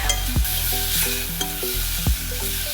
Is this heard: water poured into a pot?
no